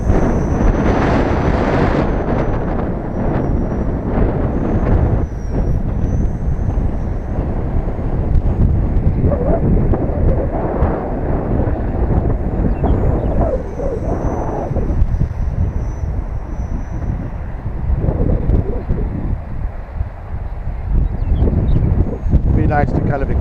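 Strong, blustery wind buffets the microphone outdoors during a night flight of a small Blade 230 S remote-control helicopter, a loud continuous broadband roar that persists for the whole stretch, with a voice talking over it.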